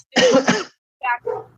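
A sharp, close sneeze bursts out loudly during a tabletop fantasy role-playing game session, followed after a short pause by two brief bits of speech.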